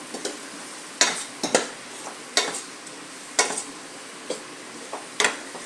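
Grated peda sweets stirred into a warm mixture in a pan for ghughra filling, a series of separate scraping strokes of a spoon against the pan at an uneven pace, close and moderately loud.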